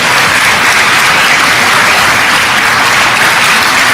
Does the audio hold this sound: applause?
yes